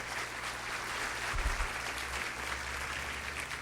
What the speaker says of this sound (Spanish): Si no aplaudían, no subía.